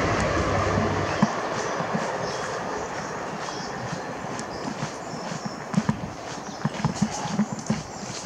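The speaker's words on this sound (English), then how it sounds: "Here's a train. Train's rolling. That train's rolling." A train rolls past outdoors with a steady broadband rumble, irregular clanks and rhythmic thumps from the wheels growing more pronounced toward the end.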